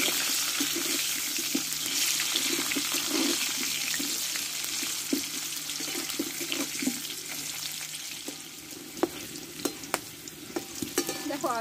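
Potatoes and garlic frying in hot oil in a pan, a constant close sizzle with occasional scraping and a few sharp clinks of a spatula against metal toward the end.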